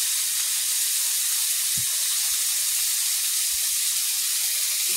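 Water poured into hot oil in a cooking pan while making a Bengali fish and vegetable dish, producing a loud, steady steam hiss and sizzle with a few soft clunks of stirring beneath.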